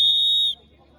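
A referee's whistle sounds at a team match as a single sharp, steady blast of about half a second that cuts off abruptly, followed by quiet room noise.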